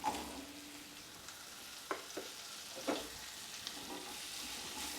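Grated bottle gourd being stirred with spices in a hot pan, a steady soft sizzle broken by a few sharp scraping strokes of the spoon, close and alone.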